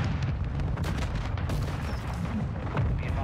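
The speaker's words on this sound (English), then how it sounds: "Mortar strike." Mortar strike explosions in Call of Duty MW2 rumble on in a dense, continuous barrage of low booms and cracks, fairly distant and steady for several seconds.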